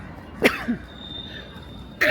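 A sharp, close sneeze bursts out, followed by a softer trailing breath, then a faint tone and another sudden burst at the end.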